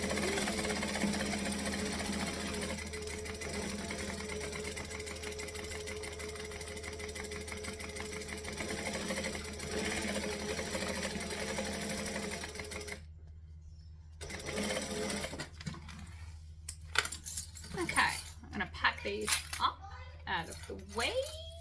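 Sewing machine runs a fast, steady mechanical stitch along a seam beside a zipper tape, then halts abruptly, leaving someone talking over quieter handling noises.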